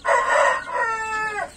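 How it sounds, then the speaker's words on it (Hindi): A single loud, close crow from a rooster among aseel and crossbred chickens, rising then holding a long, drawn-out call with no other sounds over it. "ये है देखो ढोकली मुर्गी"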